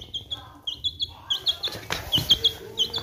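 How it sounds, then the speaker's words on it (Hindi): Pet parrots let out repeated shrill, high chirps and squawks in a quick irregular rhythm, close and fairly loud over a low background murmur. "ये तोते मैं ले आया"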